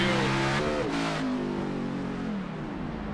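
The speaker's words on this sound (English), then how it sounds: "You hear the engine cut out just a hair, crossing that start-finish line" A race car engine drones loudly with falling and rising pitch at Sonoma, briefly dipping as it cuts out crossing the start-finish line before the revving resumes.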